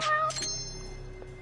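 A short, close cat meow in the video game Judgment, with a sharp rising onset, then fading into a brief tonal tail and faint background hum.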